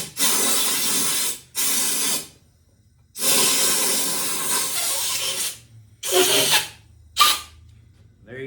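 Compressed air hisses from a nozzle to slide a grip onto the handlebar of a 1999 Harley-Davidson Sportster. The close, loud bursts come in several separate blasts of varying length, with short silent gaps between them.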